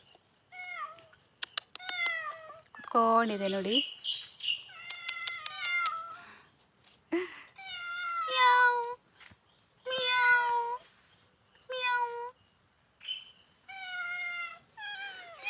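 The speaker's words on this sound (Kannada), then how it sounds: "ಇದು ನಮ್ಮನೆ ಬೆಕ್ಕಲ್ಲ" A visiting cat meows repeatedly at close range, a series of clear, drawn-out cries in separate bursts with short pauses between them, with a few words spoken briefly in between.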